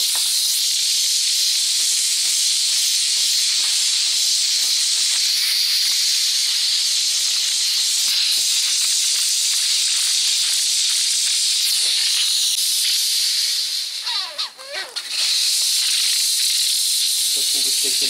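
Bim steam cleaner used as a steam mop, giving a loud, steady broadband hiss that runs almost unbroken, with a brief sputter and dip near the end.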